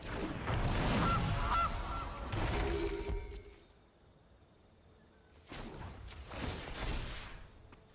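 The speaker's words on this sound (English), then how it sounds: "And a goose." Goose honking sound effect from MTG Arena, a digital card game, with loud bursts at the start, a quieter stretch, then another run of honks near the end.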